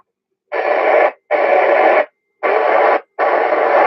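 Four bursts of radio static and garbled signal on an amateur simplex net, each roughly half a second to three quarters of a second long with brief silent gaps between, loud and hissy with no clear voice.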